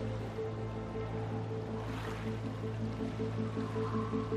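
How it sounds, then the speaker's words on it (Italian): Water of the Venice lagoon laps in the city's canals, a steady wash of moving water under a constant low motor-like hum. "L'acqua entra nei canali."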